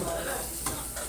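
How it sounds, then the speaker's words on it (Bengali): Eggplant fries in a pan in a small kitchen, a brief steady sizzle with a faint clink of a utensil, close and moderate in level, no talk. "বেগুন ভাজি করতে আছে।"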